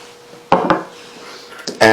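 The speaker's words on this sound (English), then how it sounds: "Give it a stir and put the lid on so it doesn't take all day" A spoon stirs a pot of keto zuppa toscana with kale and sausage, giving a couple of sharp metallic knocks, then a lid clatters onto the pot, all close and brief over a quiet kitchen.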